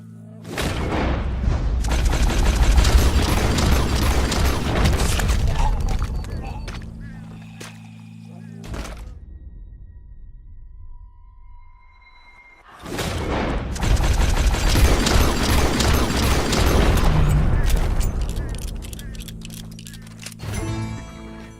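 Gunfire in Red Dead Redemption 2 comes in two long, dense bursts of rapid shots and booms that fill the scene, with a quieter stretch between them. Voices can be heard during the action.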